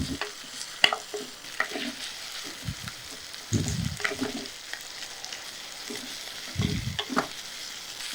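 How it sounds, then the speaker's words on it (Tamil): Garlic, onion and tomato sauté in a pan for Mangalore-style coconut rasam, a soft steady sizzle punctuated by several bursts of spoon stirring and scraping, close by with no talk. "அதோட பூண்டையும் சேர்த்துட்டு இன்னும் ஒரு 3லேருந்து 4 நிமிஷம் நல்லா அப்படியே வதக்கி எடுத்துக்கலாம்."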